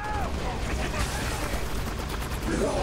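A gun in Halo: Spartan Assault fires in rapid bursts amid a busy wash of game combat noise, with chirpy electronic effects layered over the loud, continuous clatter.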